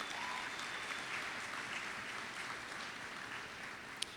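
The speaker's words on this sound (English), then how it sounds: "Give yourselves a round of applause." Graduation attendees at Spanish River Community High give a long, steady round of applause, the dense clapping of a large crowd holding even throughout, heard at a moderate distance with no speech.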